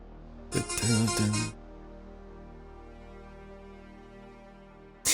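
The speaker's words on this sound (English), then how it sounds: "I will get a copyright strike if the ringtone is playing too long on the stream." Mobile phone ringtone heard during a naval strategy game stream: a bright, loud tonal burst of about a second, then a quieter sustained tone, and another loud burst starting right at the end.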